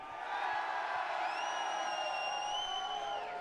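A live crowd at a Halo Infinite HCS esports event in Salt Lake City cheers and whoops as a continuous, moderately distant roar, with a few high shouts rising above it.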